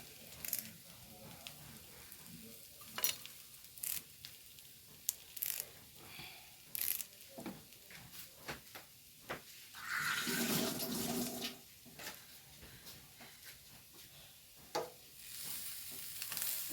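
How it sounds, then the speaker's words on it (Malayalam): A jackfruit seed and shrimp stir-fry is stirred in a pan, giving quiet, scattered scraping clicks and soft sizzling, with a brief denser hiss of frying near the middle. "ഇനി ഒന്ന് ഇളക്കി കൊടുക്കാം"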